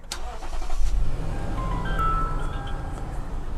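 A Lexus GX460 engine starting and settling into a steady idle, with a low continuous rumble close by and a few brief higher chime-like tones over it.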